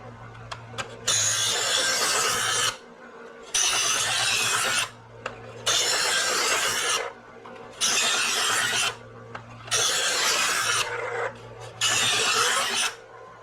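A knife blade is drawn across a sharpening stone in six long, steady rasping strokes, each separated by a short pause, loud and close with no talking.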